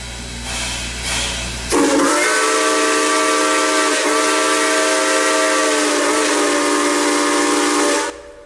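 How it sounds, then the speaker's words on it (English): Texas State Railroad steam locomotive whistle blasting as the train leaves on its return trip to Palestine, a loud, steady harmonic wail held for about six seconds after a brief hissing lead-in, then cut off abruptly. "just like that, the whistle goes off, marking the beginning of the return trip to Palestine"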